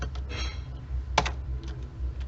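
Soft, irregular keyboard tapping at close range, a few sharper keystrokes standing out over a low steady hum.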